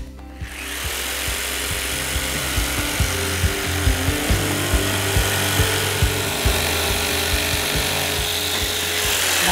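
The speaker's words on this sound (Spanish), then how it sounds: "la sierra de calar y vamos allá, vamos a ir cortando esta pieza" A jigsaw cutting through a clamped wood piece during a home office remodeling project, a loud, steady motor whine with rapid blade chatter and rhythmic ticking, running continuously without talk.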